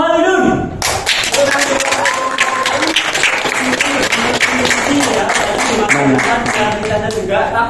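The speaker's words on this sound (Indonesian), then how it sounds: "tepuk tangan yang semeriah mungkin" A group in a classroom lesson claps hands enthusiastically for a winning team, with brisk, dense claps and a few louder nearby slaps continuing steadily after a short spoken lead-in.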